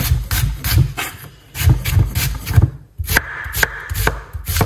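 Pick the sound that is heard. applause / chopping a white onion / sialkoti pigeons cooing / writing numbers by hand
chopping a white onion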